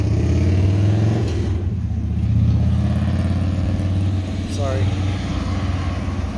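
Motorcycles rumble past during bike week near the beach, a loud low engine drone with revving swells that rises and eases across several seconds, close by and continuous.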